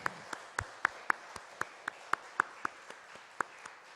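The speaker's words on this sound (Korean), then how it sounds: "박수 한번 해주시기 바랍니다." A church congregation applauds during a Sunday morning Baptist service in Daegu, heard as faint, sparse, evenly spaced claps that ring out one at a time in a quiet room.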